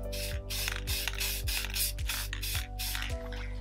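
Spray paint hisses onto the inside of a clear Puch moped flywheel cover in about seven short, evenly spaced bursts, close and crisp, over a steady low mechanical hum.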